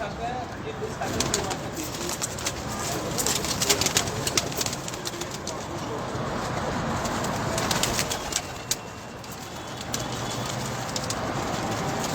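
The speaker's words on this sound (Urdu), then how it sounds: "بہت ہی خوبصورت اور بہت ہی نایاب کبوتر جتنے بھی آپ دیکھ رہے ہیں" Pigeons cooing on a rooftop, soft repeated coos amid a dense rustling backdrop of wingbeats and movement, with someone talking over them throughout.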